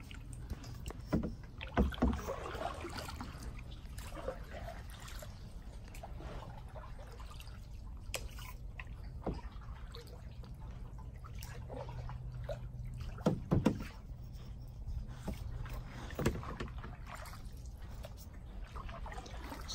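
A kayak is paddled one-handed through calm water in a nature preserve, soft splashes and trickles as the blade dips and lifts at irregular intervals, with a few louder strokes, over a quiet outdoor background with no talking.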